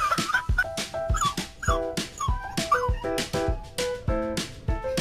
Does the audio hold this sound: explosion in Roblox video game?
no